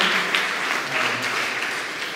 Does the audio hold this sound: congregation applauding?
yes